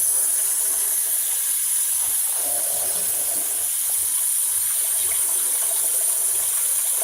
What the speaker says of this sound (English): our water's starting to boil off a little bit